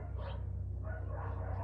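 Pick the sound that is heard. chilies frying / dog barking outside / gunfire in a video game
dog barking outside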